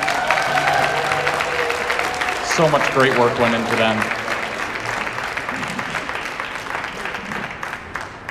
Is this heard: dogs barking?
no